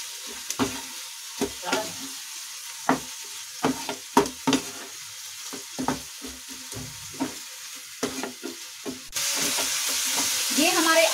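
Diced potatoes frying in a pan with tomatoes, salt and black pepper for a fasting-style aloo paratha filling, with repeated sharp scrapes and clacks of a spatula stirring over a soft sizzle, then a louder, steady sizzle toward the end.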